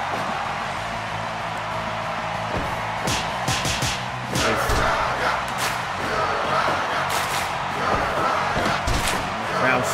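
Crowd cheering and shouting for wrestler Alpizar at a small house wrestling show, a steady roar that swells partway through, with thuds and slaps from the ring and voices mixed in.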